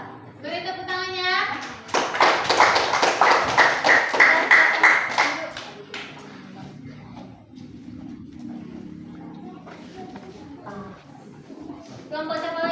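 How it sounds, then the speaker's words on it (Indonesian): A classroom of children clapping their hands together, a burst of rapid, rhythmic claps in the middle, with kids' voices talking before and after. "Beri tepuk tangannya."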